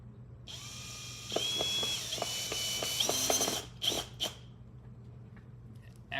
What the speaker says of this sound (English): you have to have a power drill